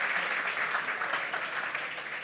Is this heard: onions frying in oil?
no